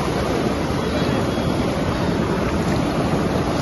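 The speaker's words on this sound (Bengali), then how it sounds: "এই হচ্ছে জল।" Very cold flowing water in a mountain stream in Kashmir makes a steady, dense, loud rushing roar that fills the whole stretch without pause, heard alone.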